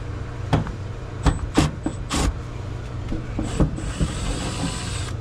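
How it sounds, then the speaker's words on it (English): Screws being backed out of the top of an evaporator motor in an R-22 package unit, heard as several sharp metallic clicks and short mechanical rattles spaced irregularly, with a faint high whine running underneath. "I'm gonna take these screws out on the top."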